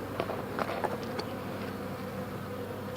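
Honey bees hum steadily around an opened hive, a dense continuous buzz with a few louder individual bees passing close by.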